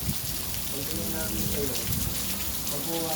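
Heavy afternoon rain hisses steadily over everything in zero visibility, a dense, constant wash of falling water with faint voices murmuring underneath.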